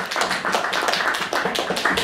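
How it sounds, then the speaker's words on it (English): Audience applause at an Anime Evolution 2013 convention Q&A panel, a dense, steady wash of many hands clapping at close range for about two seconds, with no talking over it. "let's have a big round of applause for all of you."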